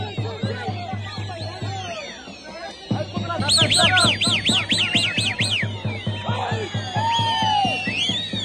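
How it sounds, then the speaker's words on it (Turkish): Thousands of pigeons are released into the sky at an outdoor gathering between Birecik and Nizip, with busy chirping and whistling calls and a rising wash of wingbeats and crowd noise. "Birecik'le Nizip arasında 3 bin ile 5 bin arasında kuş bırakıldı."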